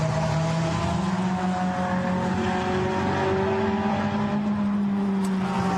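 GT race cars, a Porsche and an Artega Rennsport Ferrari, racing wheel to wheel at Barcelona in a Blancpain GT Sports Club race: a steady, loud engine drone with sustained tonal whine that holds evenly throughout, no voices.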